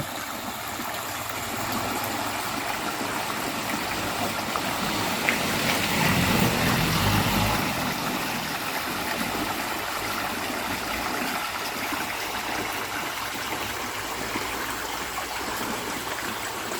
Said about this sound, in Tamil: தண்ணியோட சத்தத்தை கேட்டாலே நல்லா இருக்குங்க